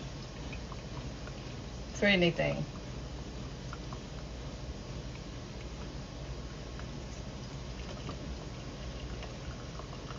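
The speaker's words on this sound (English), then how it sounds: "Y'all see that dripping through?" Coffee trickles through a pour-over filter into a mason jar as a faint, steady liquid patter, briefly interrupted by a short spoken remark.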